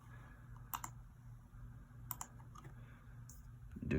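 Someone types on a computer keyboard at close range: short bursts of crisp key clicks separated by pauses, faint over a low background hum, with no talking.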